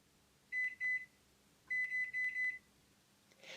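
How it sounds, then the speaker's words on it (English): Microwave oven beeps sound in two groups, two quick tones and then three, clear and close over a quiet low hum. "pop the eggs into the microwave. High power for 2 minutes and 40 seconds"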